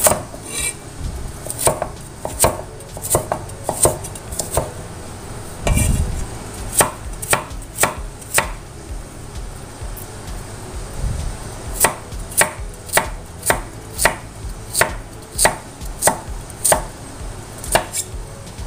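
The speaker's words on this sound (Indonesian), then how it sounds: "di sini ini wortelnya juga akan saya iris sama seperti kacangnya tadi ya. Jadi diiris kecil-kecil." Carrots being cut into small pieces on a cutting board for a mixed vegetable stir-fry: a close run of crisp knife taps against the board, irregular at first and then quick and regular, with a couple of dull thuds and no voices.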